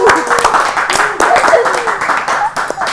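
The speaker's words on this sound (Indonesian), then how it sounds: "Spesial edisi, tepuk tangan dong." Hands clapping in applause during a university interview session in Indonesia, dense irregular claps lasting the whole moment with voices underneath.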